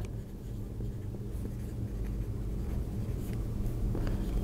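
Writing on a board during a Bengali-language integration mathematics lecture, heard as steady, continuous scratching strokes close up over a low background hum, with no talking.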